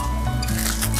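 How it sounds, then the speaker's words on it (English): Indomie mee goreng noodles are stir-fried with basic utensils in a holiday kitchen in Bali, giving a close, moist squishing and scraping over a steady low hum, with soft rhythmic clinks through the brief moment. "So I'm stir frying the noodles."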